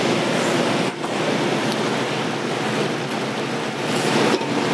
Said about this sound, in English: So let's add the sauerkraut.